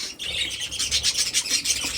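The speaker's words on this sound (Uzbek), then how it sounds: "Mana keling, qushlar sotiladi shular." Many caged birds at a bird market in Andijan chirp and tweet in a dense, lively chorus, with rapid overlapping calls close by.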